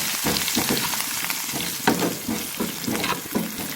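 Crushed red chilli and coriander sizzle in hot oil for a dal tarka, a steady frying hiss with a few sharper crackles and stirring sounds throughout.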